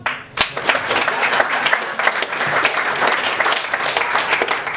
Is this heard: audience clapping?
yes